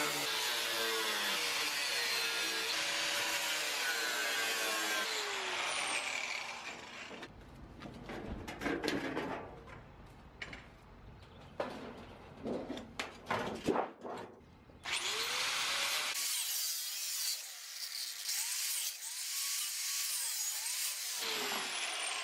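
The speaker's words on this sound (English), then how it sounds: "we're gonna take the angle grinder to them, pop it off" An angle grinder cuts rivets off vehicle seat frames during a conversion build, a loud sustained whining grind for about seven seconds, then a stretch of quieter clanks and handling noise before another long grinding run.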